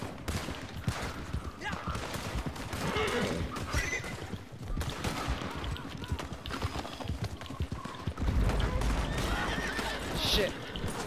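Horse whinnies and clip-clopping hooves in Red Dead Redemption 2, mixed with bursts of gunfire and a busy game soundscape, with a heavier low rumble near the end and some speech-like voices.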